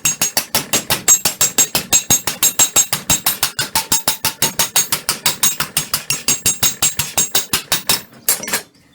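A hammer works back and forth across a copper sheet resting on a steel block, a long, rapid, evenly spaced series of bright metallic taps, loud and near, ending with a brief pause and a few final strikes.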